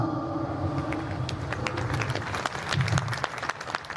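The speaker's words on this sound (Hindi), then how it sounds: "आत्माओं से आग्रह करूंगा कि जोरदार तालियां बजाकर आचार्य जी का धन्यवाद करेंगे।" A crowd at a spiritual discourse applauds loudly and steadily, dense clapping filling the whole stretch without pause, close and sustained.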